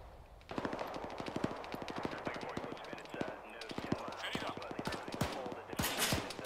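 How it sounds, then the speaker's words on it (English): Rapid gunfire in an Arma 3 modded insurgent-fighting squad operation, sustained bursts of machine-gun and rifle shots cracking back and forth for several seconds, dense and continuous with a few louder close shots near the end. "So they're firing on this sentry right off the bat."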